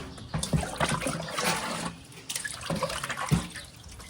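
Water running from a tap while a child's hands are washed, a steady close splashing stream with uneven trickles and drips over about four seconds.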